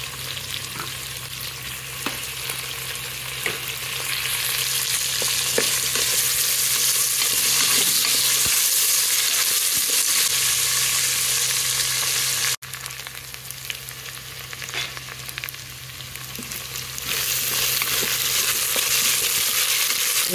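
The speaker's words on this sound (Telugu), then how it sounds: "అల్లం వెల్లుల్లి పేస్ట్ కూడా వేసుకోవాలండి." Ginger garlic paste and onions fry in a pan for Bagara rice with a steady, loud, close sizzle and occasional stirring scrapes, continuing throughout without talk.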